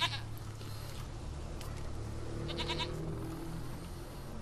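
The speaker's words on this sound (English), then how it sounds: "Goat of mine, dearest, sweetest goat." A goat in The Witcher 3 bleats several times in short, wavering cries over a steady ambient game background.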